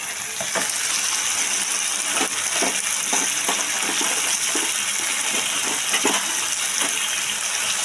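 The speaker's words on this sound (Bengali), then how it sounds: "এবার আমি জল দিয়ে দিলাম বাটিটা দিয়ে।" Water goes from a bowl into a pan of spiced potato curry, a continuous loud rush and hiss of liquid hitting hot oil, with faint stirring taps underneath.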